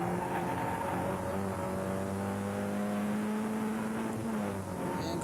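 Production saloon race cars from a 1988 championship round at Brands Hatch GP braking for the fast Hawthorn corner, engines droning loudly and steadily throughout with a sustained whine and no one talking.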